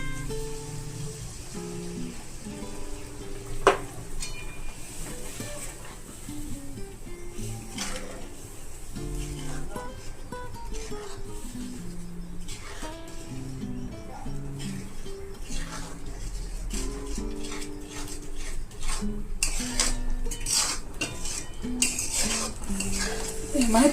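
A grated corn and milk mixture stirred in a pan, with a steady run of metal spoon scrapes and clinks against the pan over a soft cooking bed throughout, close and moderately loud.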